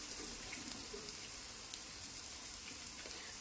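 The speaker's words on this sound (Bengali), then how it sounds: "এবার আমি গোল চামচ দিয়ে 1 চামচ ব্যাটার গরম তেলের উপর দিয়ে দিচ্ছি।" Pua pitha batter frying in hot oil, a soft, steady sizzle with faint crackles and spits, continuous and fairly quiet with no voices.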